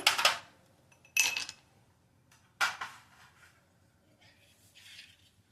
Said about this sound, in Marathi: यामध्ये मी 2 आईस क्यूब घालते.